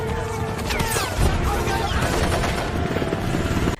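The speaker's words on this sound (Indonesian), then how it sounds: "Ketika peluru dan bom saling bertabrakan, Dini pun berlari" A film battle scene erupts with dense gunfire and bomb blasts, a loud, continuous roar of bursts, cracks and crashes that never lets up and cuts off abruptly at the end.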